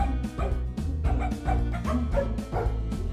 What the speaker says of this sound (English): The dog is barking to the music.